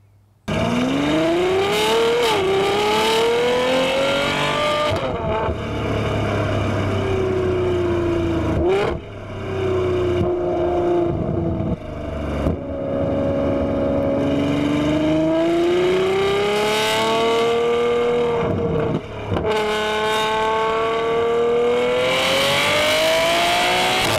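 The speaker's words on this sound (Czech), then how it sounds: "zvuk budeme snímat právě z výfukové soustavy" A Ferrari F12 Berlinetta 6.3-litre V12 exhaust drones loudly up close, rising and falling through revs with brief drops between gear changes during continuous driving.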